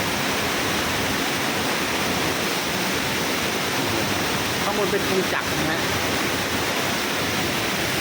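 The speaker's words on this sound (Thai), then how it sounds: "นี่เราอยู่ใต้ม่านน้ำตกเลยนะฮะ" A waterfall pours down in front of a cave, and standing beneath the falling curtain gives a loud, unbroken roar that fills the whole space while someone talks over it.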